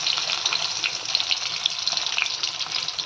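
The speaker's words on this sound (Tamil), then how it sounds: "அப்புறம் கொஞ்சோண்டு சோம்பு போட்டு பட்டை, கிராம்பு, ஏலக்காய் எல்லாம் போட்டு பொரிஞ்சோன்னா வெங்காயம் போடுறோம்" Onions fry in hot oil with fennel seeds, cinnamon, cloves and cardamom for a chicken curry, giving a steady close sizzle with small crackling pops throughout.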